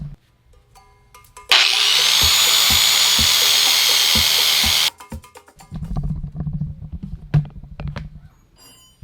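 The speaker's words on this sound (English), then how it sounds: "I just got to grind it down a little bit more." A grinder bites into a metal part for an electric bike in one loud, harsh burst of about three seconds, followed by quieter clattering and handling noises.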